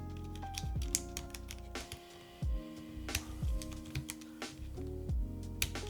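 Typing on a Womier SK71 Pro keyboard fitted with ABS keycaps, a close, quiet run of irregular clacky keystrokes with small bursts and brief pauses.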